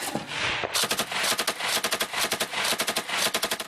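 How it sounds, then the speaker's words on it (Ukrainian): Heavy machine guns fire in combat in loud, close, rapid bursts of evenly spaced shots, with brief gaps between the volleys. "той бік, тільки нарощує сили, використовуючи вже важкі кулемети і гарматомети"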